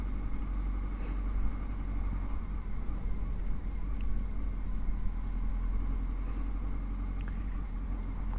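A Honda Hornet 900 motorcycle engine idles with a steady low rumble, a constant close drone throughout with a few faint clicks on top.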